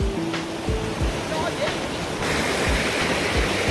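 Water rushing steadily through the rocky Gwangdeok valley stream in Gangwon-do, a continuous broadband wash with a few low knocks, recorded close by, no voices in the clip.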